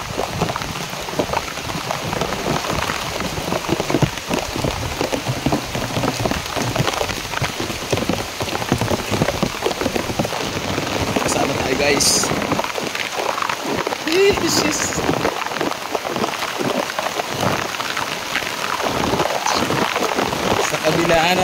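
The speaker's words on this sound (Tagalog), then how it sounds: "Sobrang lakas ng ulan, guys, oh." Heavy rain pours down in a steady, dense roar throughout, with people talking briefly over it.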